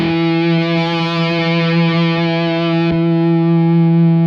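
A single electric guitar note rings on steadily through a Tonex amp modeler with a noise gate, full and distorted with strong harmonics, holding for about four seconds with one brief dip near the three-second mark and no talking.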